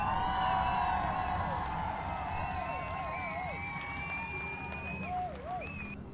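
A crowd cheering and applauding plays as a sound effect during a live game stream, a steady wash of noise with whistle-like tones over it, loudest at the start and easing slightly across the stretch.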